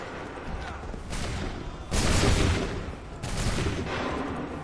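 Musket volleys crack out across a battlefield in Assassin's Creed 3, several rolling bursts of gunfire with one heavier boom, heard at moderate distance.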